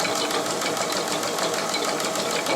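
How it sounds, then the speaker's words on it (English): A Reeves variable-speed drive on a Yates American B244 bandsaw runs with a wobble, producing a steady close mechanical whirring hum with a faint rapid ticking throughout. "So this Reeves drive, I don't really like the way that's wobbling."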